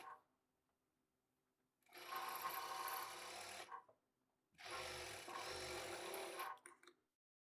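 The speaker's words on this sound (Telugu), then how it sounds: "ఈ చివరన ఒక స్టిచ్ వేసుకోవాలి" A sewing machine stitching a blouse lining runs in two bursts of rapid whirring, each just under two seconds, separated by a short quiet pause.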